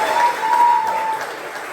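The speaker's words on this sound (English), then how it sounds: "So I just want to give her a big round of applause again." Audience applause at a golf tournament dinner, a brief, steady wash of clapping with a faint whistle-like tone running through it.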